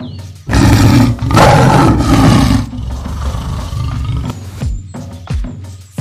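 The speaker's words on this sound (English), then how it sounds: "Tiger." A tiger roars loudly and close, one long deep rumbling roar with a rough throaty tail, followed by lower growling breaths.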